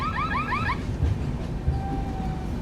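On the Samata Express after leaving Visakhapatnam, a warbling electronic siren wails in quick rising sweeps for under a second, then the low rumble and clatter of the moving train continue, with a faint thin whistle tone later.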